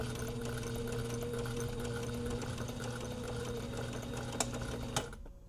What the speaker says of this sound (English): flip it right side out, push out the corners, and top stitch around the same 3 sides